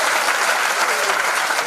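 A seminar audience breaks into loud, dense applause at a business presentation, a brief continuous wash of many hands clapping together.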